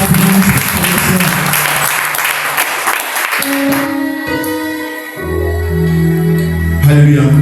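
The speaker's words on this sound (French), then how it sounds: "Je veux que vous acclamez Jésus pour moi." Congregation applauding at a Sunday church service, dense continuous clapping from many hands that fades as a sustained organ or keyboard chord comes up underneath, loud and roomy.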